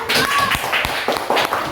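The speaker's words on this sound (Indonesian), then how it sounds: "Beri tepuk tangan untuk teman kalian." Classmates applaud in a classroom, a burst of close, busy clapping from several children that fills the room, with voices mixed in.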